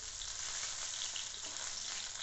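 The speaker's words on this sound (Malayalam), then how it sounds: "നമ്മുടെ മീൻ പകുതി ഫ്രൈ ആയിട്ടുണ്ട്." Fish frying in a pan for fish molee, a steady close hiss of sizzling oil that holds evenly throughout with no voices over it.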